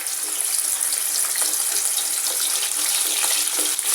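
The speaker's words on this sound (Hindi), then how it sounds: "अब मैं इसमें डालूंगी चिकन" Chicken frying in hot oil in a karahi gives a loud, continuous bright sizzle and hiss, steady throughout with small crackling bursts.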